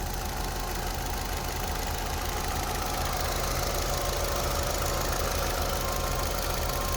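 A 2011 Chevy Cruze LT with a 1.8 liter Ecotec engine idling after running a while, a steady, even mid-pitched drone with faint vibration and knock, constant and close.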